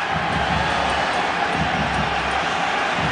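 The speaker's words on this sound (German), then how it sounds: "das Publikum ist kaum zu halten" Stadium crowd at a European Cup match between Austria Salzburg and Sporting Lisbon roars continuously after a goal, a dense, loud, unbroken wash of cheering.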